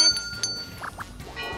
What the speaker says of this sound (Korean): 이번에도 골든벨이 울렸습니다.